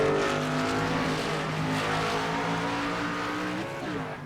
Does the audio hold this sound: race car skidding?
yes